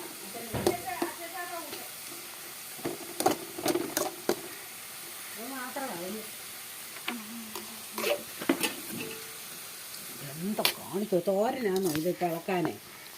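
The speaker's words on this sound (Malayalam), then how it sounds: "നമ്മളിപ്പോൾ ഇതങ്ങോട്ട് ഇളക്കി കൊടുക്കുന്നതേ ഉള്ളൂ" Food being stirred in a frying pan, a soft sizzle with scattered spoon scrapes and clicks, close by, while a person talks over it at intervals.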